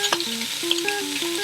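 Bacon frying in a pan at the start of a batch of collard greens, a steady close crackling sizzle running throughout, with a few brief musical tones layered over it.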